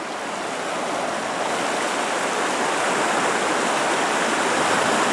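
The Razdolnaya River flows near the village of Pokrovka with a constant, dense rushing of water that grows slightly louder, with no voices over it.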